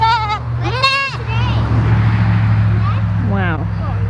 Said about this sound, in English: here come the baby goats to talk to us.